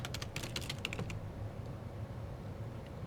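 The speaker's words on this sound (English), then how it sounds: "So if I type" Rapid keystrokes on a computer keyboard clatter in a quick burst for about a second, then stop, leaving only a low steady room hum for the rest.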